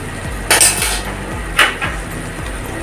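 Metal spoon scraping and clinking against a pot while egg biryani ingredients, with eggs and ghee, are stirred together; a few loud scraping strokes stand out over a steady low rumble, with no talk.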